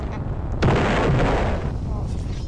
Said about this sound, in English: Your bomb is going off.